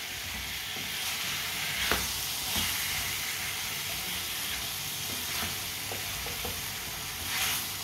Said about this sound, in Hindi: अब इसे 3 मिनट के लिए पका लेते हैं, चम्मच चलाते हुए